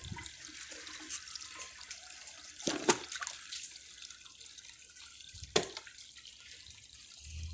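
Water rushes steadily into the tank of a 1992 Lamosa Sahara toilet as it refills, a soft continuous hiss with two brief sharp clicks partway through.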